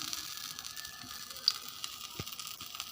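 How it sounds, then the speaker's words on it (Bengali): Spice-stuffed pointed gourd (potol) frying in oil over low heat, giving a faint, steady sizzle with small pops and crackles, heard alone. "মশলা ভরা পটল আমি তেলের মধ্যে দিয়ে দেবো এবং হালকা আঁচে ভেজে নেব"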